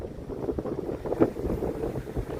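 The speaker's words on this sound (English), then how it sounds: "I'm in a wind tunnel," Steady wind on a city street buffets the microphone in low rumbling gusts, with no voices, just a constant blustery roar.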